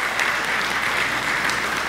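A church congregation bursts into loud, dense applause at a Sunday morning service, a continuous roar of clapping close and even for the whole stretch.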